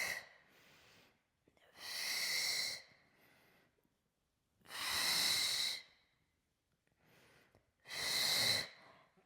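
Deep, audible breaths during a mat Pilates workout, three long airy exhales spaced a few seconds apart, close and alone with quiet between them.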